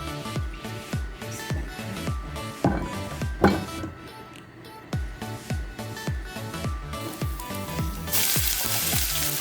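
Chicken breast fries in olive oil in a pan, a steady close sizzle with rhythmic clattering from stirring, ending in a louder hissing surge.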